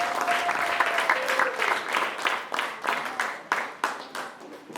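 A church congregation applauding during a lively worship service: dense, close clapping that gradually thins into separate, uneven bursts, with a faint sustained tone near the start.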